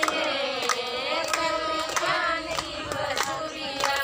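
Steady rhythmic hand clapping keeping time with a devotional song, the claps recurring at a regular beat over sustained sung or instrumental tones, with no speech.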